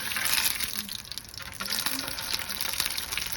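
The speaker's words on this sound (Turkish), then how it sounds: "Yağımı ocağa koydum. Biraz salça ekliyorum." Tomato paste fries in oil in a pan on the stove, giving a soft, continuous sizzling hiss heard close up without any voices.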